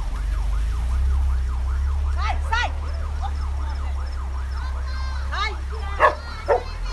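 An emergency vehicle siren wails continuously at a prison riot at Funase in Caruaru, its rising and falling sweeps steady over a low rumble, with dogs barking loudly near the end and voices in the background.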